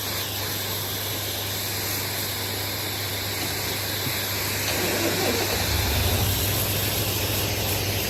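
Water spray hisses continuously against a tractor being washed, close and loud, and partway through the sound thickens with a heavier, lower splashing rush as the jet strikes a different surface.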